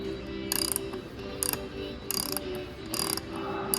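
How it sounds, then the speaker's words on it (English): Ratchet wrench clicking in several quick two-handed bursts on a turbo fuel fitting, loud and close, with brief pauses between pulls and steady background hum. "Two-handed ratcheting."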